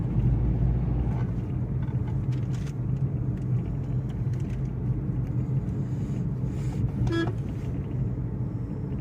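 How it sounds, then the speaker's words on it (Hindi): A Hyundai Santro hatchback labours uphill after a downshift, its engine a steady close low rumble under road noise, with a brief high beep near the end and no talking. "चढ़ाव बहुत ज़्यादा था इसलिए हमें गियर शिफ्ट करना पड़ा।"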